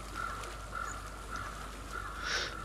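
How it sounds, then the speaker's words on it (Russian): A raven caws several times in Hellblade: Senua's Sacrifice, a series of faint, evenly spaced croaking calls over a low game ambience, with a slightly louder, harsher call near the end. "Ворон я слышу. Не воду."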